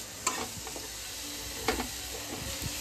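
Chopped vegetables being stirred into hot oil in a pan for veg fried rice, ginger-garlic paste about to go in: a steady sizzle with a few sharp scraping knocks of the spoon, close and fairly soft, no talking.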